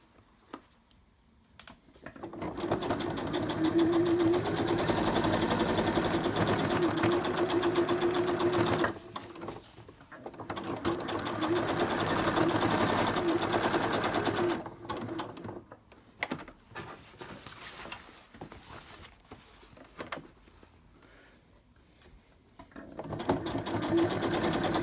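A sewing machine stitches a fidget mat in long, fast, steady runs with short pauses between bursts, close and clear with no talking.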